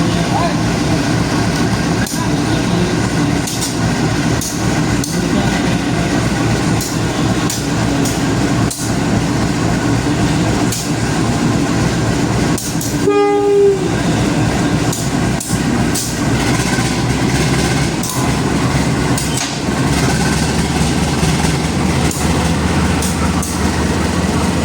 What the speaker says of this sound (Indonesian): perjalanan kereta api Serayu tiba di stasiun Kroya